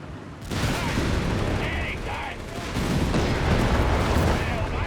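Dense battlefield gunfire and artillery from Company of Heroes 3 roar continuously, with overlapping rifle and machine-gun bursts and heavy booms building louder toward the end.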